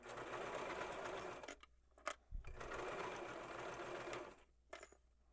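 A sewing machine stitches a dress hem in two bursts of fast, even whirring, separated by short pauses and a soft thump, close and fairly quiet.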